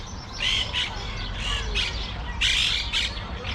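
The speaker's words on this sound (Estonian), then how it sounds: "Rohelised papagoid." Green parrots squawk in a city, a flock giving repeated harsh, loud calls in overlapping bursts over a low urban background hum.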